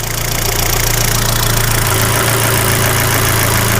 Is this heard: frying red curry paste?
no